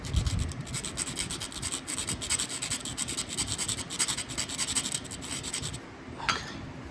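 Grinding to thin the striking area of a flint, heard as a continuous close rasping scrape with a slight rhythmic pulse, ending in a brief sharper scratch.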